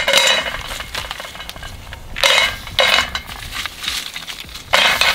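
Oysters dropped one after another into a pan for an oyster roast, giving several sharp clattering shell clinks and knocks at irregular intervals, close and fairly loud.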